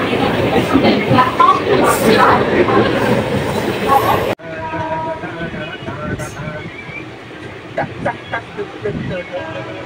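A loud, steady rumble of a train running on rails, with wind buffeting and a sudden shift in tone partway through; faint voices in the background.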